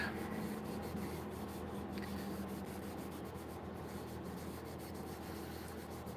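Small strips of sandpaper rub by hand across a turned mahogany platter, producing a close, steady, continuous abrasive scratching that stays even throughout, with no talking.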